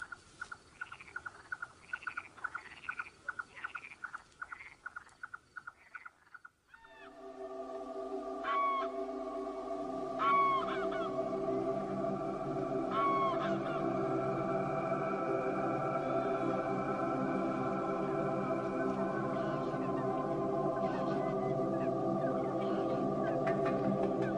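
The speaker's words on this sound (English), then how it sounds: "Grey-lag geese fly in for breakfast to search the rich marshland areas." A flock of greylag geese calling from a distance over marshland, honks overlapping steadily over a wide outdoor ambience after a few sharp chirps at the start.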